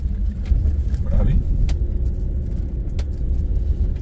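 A Subaru XV climbs an off-road track toward the San Lucio mountain refuge near Porlezza, Como. Its low, steady engine and tyre rumble stays close throughout while someone talks over it.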